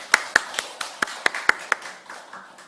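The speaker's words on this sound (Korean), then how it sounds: "박수." Applause from a church congregation during a Sunday worship service, a burst of brisk, fairly close hand claps with sharp individual slaps standing out, fading away after about two seconds.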